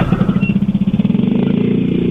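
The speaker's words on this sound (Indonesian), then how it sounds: "Baru mau ngidupin motor." A motorcycle engine starts at a fuel stop and settles into a steady, close, pulsing idle, with rapid regular chugging that continues to the end.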